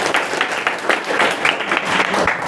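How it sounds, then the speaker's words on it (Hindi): Audience applause at a school gathering, a short burst of dense clapping from a crowd, fairly loud and continuous for a couple of seconds. "तो सर जी के लिए एक बार फिर तालियां आप लोग बजा दीजिए।"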